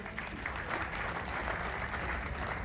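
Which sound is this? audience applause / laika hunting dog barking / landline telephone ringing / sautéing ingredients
audience applause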